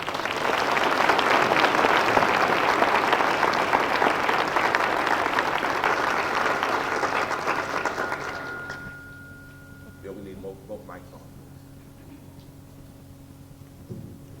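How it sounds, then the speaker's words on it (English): Loud, dense applause from an audience for about eight seconds, then it fades out, leaving quiet room sound with a few faint scattered noises. "Give them a hand clap if they're coming by."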